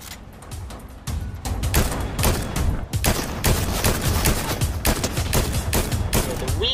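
Rapid bursts of gunfire from a DMR rifle in Fortnite, dense repeated shots packed together in quick succession and loud throughout, with a faint voice briefly underneath.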